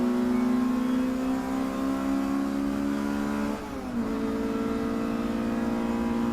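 A Honda Civic race car accelerates along the Bentley straight at Snetterton, its engine holding a loud, steady mid-pitched drone that dips briefly as it shifts gear, then climbs again.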